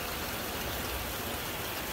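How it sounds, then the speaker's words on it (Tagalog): Steady rain falling in a continuous even hiss, dense and close, with no other sounds standing out. "Umuulan na mga jay."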